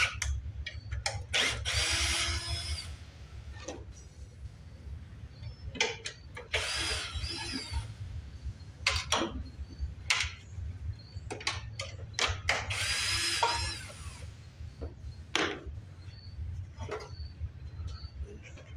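Short bursts of a power drill removing bolts from an antique mower whir on and off repeatedly, with metallic clicks and clanks between them over a low steady hum.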